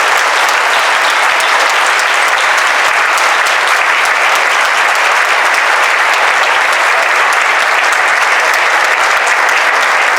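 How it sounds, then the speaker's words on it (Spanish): A large crowd at a Holocaust remembrance gathering of Mexico's Jewish community applauds, a dense, loud, unbroken wash of clapping that fills about ten seconds without any speech. "Quisiera pedir una vez más un aplauso para el"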